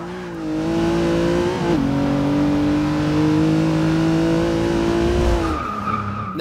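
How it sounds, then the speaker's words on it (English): A Rolls Royce Dawn's twin turbo V12 revs hard under acceleration on a straight, a loud sustained engine tone rising and holding, with a brief shift midway. "This has got a twin turbo V12, I believe. But it sounds good."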